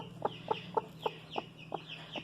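A broody hen sitting on eggs clucks in a steady series of short, evenly spaced calls, close by indoors, with a low background hum.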